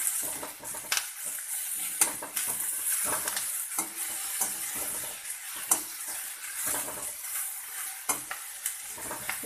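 Food sizzles steadily in a pan, with frequent scraping and stirring clatter from a utensil throughout, no voices.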